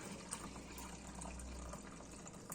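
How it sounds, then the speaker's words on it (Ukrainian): Steady warm water pouring from a kettle into a container, a continuous close gushing and trickling stream that runs evenly for a couple of seconds, with no talking. "І ось тепла вода з чайника."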